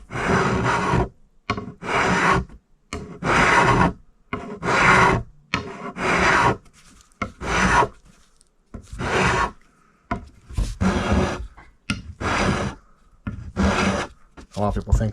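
A hand rasp files the wood of a Stratocaster guitar neck in about a dozen long, rough strokes. Each stroke is a loud, close scraping rasp, with short pauses between strokes.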